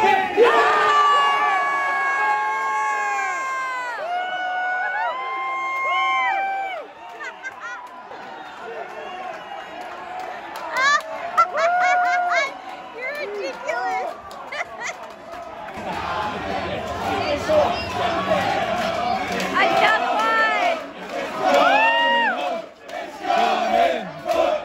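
English football fans in London cheer and yell in a loud, surging crowd after an England win, chanting and whooping continuously while people nearby talk over the roar.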